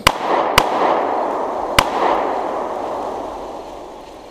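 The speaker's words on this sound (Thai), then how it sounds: "เป็นปืนไม่เก็บเสียง เสียงระเบิดของมันจึงดังก้องขึ้น" Unsilenced gunshots fired in a burst, three sharp loud cracks in quick irregular succession, each followed by a long rolling echo that slowly fades out.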